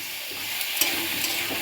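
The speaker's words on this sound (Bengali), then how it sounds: "এবার এগুলোকে মিক্স করে দিই একটু।" Onion, ginger and garlic pastes are stirred into chicken in a hot pan, a brief close, hissing sizzle with a soft wet scrape partway through.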